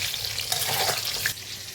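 Sliced pointed gourd (potol) frying with a little salt in hot oil in a wok, a steady close crackling sizzle with soft stirring noises and no voices.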